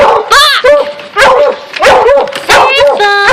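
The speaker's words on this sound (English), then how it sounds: "Over here's the puppies." Several puppies yip and bark in rapid, high-pitched bursts, close and loud, overlapping one another with brief whimpering squeals between them.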